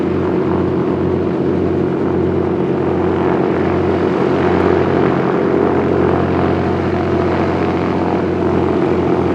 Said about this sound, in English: Plane's going to cross over between us.